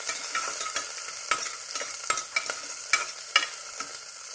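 Green chilli and ginger sautéed with onion in a pan over a low flame make a continuous sizzle, broken by regular scraping strokes of a spatula.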